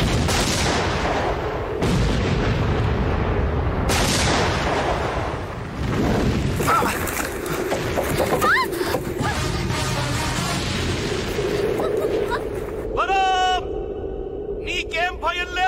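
Bombs go off in a Telugu action film scene: a series of heavy, booming blasts and crackling bursts, with people talking and shouting between and over the explosions.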